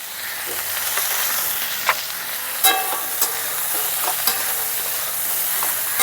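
Turmeric and salt stirred into starfruit chutney frying in a pan, a steady close sizzle with several sharp scrapes and taps of the spoon against the pan at irregular intervals.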